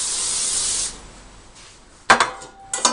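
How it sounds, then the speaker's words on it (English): Cooking spray hisses onto the bottom and sides of 8x8 cake pans in one steady burst lasting under a second, followed by quiet and then a few sharp handling knocks. "Make sure you spray the bottom and the sides"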